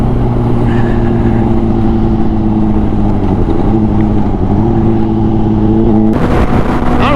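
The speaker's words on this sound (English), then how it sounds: "the wind is so loud on this bike" Loud, steady roar of wind and engine while riding a Honda CBR600RR motorcycle on the interstate, a constant rush with droning engine tones that shifts near the end.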